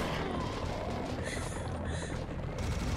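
Gunfire blasts in the shooter game Serious Sam 1 HD: dense, loud, rumbling shots and explosions pile up continuously over a chaotic battle din, with no break throughout.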